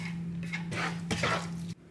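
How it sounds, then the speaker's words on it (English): Bacon medallions are tipped into a pan already holding chicken, giving soft squishing and light clatter in a few bursts over a steady low kitchen hum, ending abruptly. "I'm just going to pop them in the pan with all the chicken."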